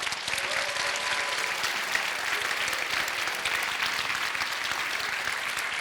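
Sustained, steady applause from a graduation ceremony audience honoring Master's graduates in human resources management, dense and even throughout with no pauses.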